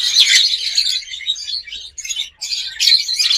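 Pet lovebirds or cockatiels chirping in a busy, continuous chorus of high, bright tweets, close and fairly loud, with brief dips but no talking.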